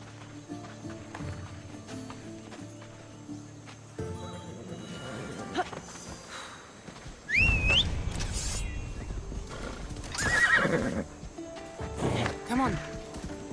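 A horse gallops and neighs in the video game Assassin's Creed Odyssey, its hoofbeats and a brief whinny rising over a steady game soundtrack, with louder bursts partway through.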